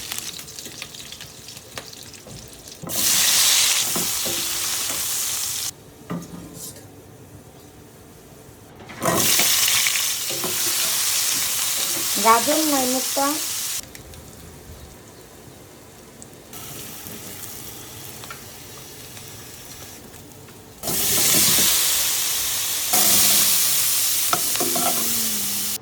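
Cauliflower and other vegetables fry in oil in loud, steady sizzling bursts separated by quieter gaps, with stirring and a brief spoken remark partway through.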